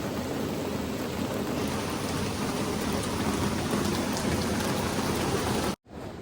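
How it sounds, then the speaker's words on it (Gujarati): Heavy rain pouring down steadily and close by as a dense, continuous hiss, unbroken for several seconds before cutting off abruptly near the end. "જોરદાર વરસાદ ચાલુ થઈ ગયો છે"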